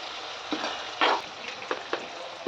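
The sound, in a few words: chicken frying and being stirred in a pan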